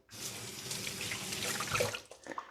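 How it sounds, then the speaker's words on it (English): Water from a kitchen tap runs as hands are rinsed of strawberry while making a cheesecake cake, a soft continuous splashing stream that cuts off near the end with a few brief drips and clinks, fairly quiet and alone. "Let me rinse my hands."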